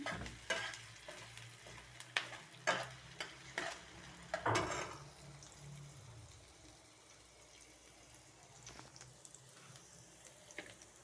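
Onions fry in a pan for a catla fish curry, sharp clacks and scrapes of stirring early on over a soft sizzle that settles into a quieter, fainter hiss.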